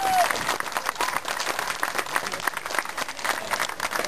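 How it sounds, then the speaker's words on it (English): Applause for the mayor breaks out at a Long Beach skatepark opening, a dense, steady clapping from a sizable outdoor crowd that holds for the whole stretch, with scattered cheers mixed in. "Give him a big round of applause."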